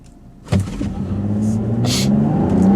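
A 2015 Volvo V60 T6 launches hard from a standstill in sport mode: after a sudden surge, the engine note climbs steadily and loudly. Brief cabin noises can be heard, but no clear speech.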